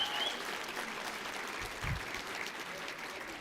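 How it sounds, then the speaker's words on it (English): Dense, steady applause from a gala audience, a continuous wash of many hands clapping at moderate loudness with a brief low thump partway through. "Another round of applause for him."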